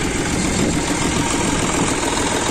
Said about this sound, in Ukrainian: Тракторець їде досить тихенько.